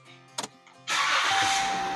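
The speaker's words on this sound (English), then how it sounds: "The engine needs to be running for this first part." A truck engine cranks briefly, then catches and settles into a steady, loud idle close by.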